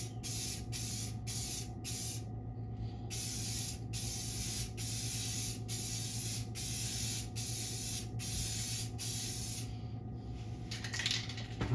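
Light coats of a spray coating hiss from an aerosol can onto a solar panel in a string of short and long bursts, close and steady, with no talking.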